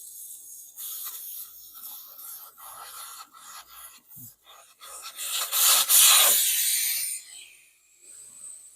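Air hisses out of a zero turn mower tire valve stem, a soft rushing stream that swells louder near the end and then tapers off, close up with no talk.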